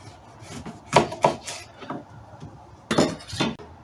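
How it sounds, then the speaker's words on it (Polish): Garlic sliced with a knife on a wooden board for quick-pickled crunchy cucumbers: a few sharp chopping knocks in two short bursts, close and clear, with no speech. "I czosnek kroimy w ten sposób."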